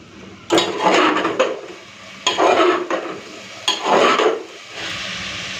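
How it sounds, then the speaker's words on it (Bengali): Chicken is sautéed with spices in a pan. Three loud, close bursts of spatula scraping and stirring stand over a softer sizzle that continues between them. "এরপর বেশ হাতে সময় নিয়ে একটুখানি চিকেনটাকে ভালো করে কষে নিই"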